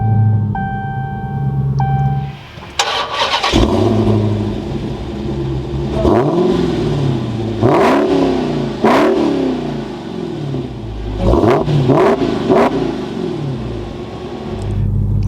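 A Dodge Challenger SRT Hellcat Redeye Widebody's supercharged engine cranks and fires up after a few seconds of chime tones, then settles into a loud, close idle punctuated by several sharp throttle blips and revs.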